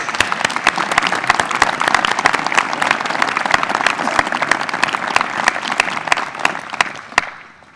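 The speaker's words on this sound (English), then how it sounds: "Please join me in a round of applause to the staff." A graduation audience at the UVA Darden School of Business gives the staff a long round of applause, loud, dense and even, thinning and fading out at the very end.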